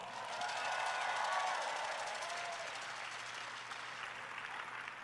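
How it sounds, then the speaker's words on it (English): Steady applause from a convention crowd, a dense wash of clapping that swells early and then holds at a fairly even level throughout. "Give yourselves a big round of applause."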